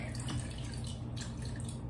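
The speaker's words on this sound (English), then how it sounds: "adding our water and so we'll be back once I'm done adding mild water" Water runs steadily into a blender while making mangonadas, a continuous close splashing wash that holds even for about two seconds with no voices over it.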